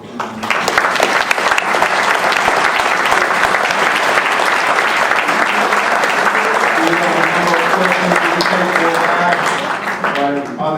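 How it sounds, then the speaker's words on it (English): An audience after a Hayling lecture gives one more round of applause for the speakers, loud, continuous clapping filling the room for about ten seconds, with a few voices and a tonal sound rising near the end. "just one more round of applause for the gentlemen"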